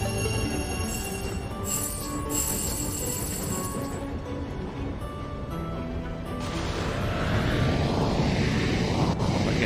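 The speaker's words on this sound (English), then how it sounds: "Oh, there's a plane flying past." A plane flies past in the Alaska route of the train game Tiny Rails, its broad engine drone swelling and sweeping in pitch toward the end over steady game music.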